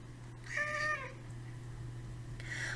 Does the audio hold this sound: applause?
no